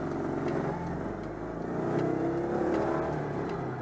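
A Citroën 2CV engine pulls away uphill in second gear, a steady, strained low drone that builds slightly as it climbs, heard from inside the car with no talk.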